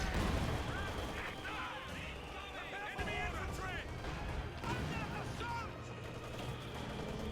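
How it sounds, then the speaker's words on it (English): Stuka dive bombers and mortars firing in a strategy war game, a dense battle din of booming blasts and gunfire layered with whining and chirping effects, with a voice talking over it. "Stuka's firing."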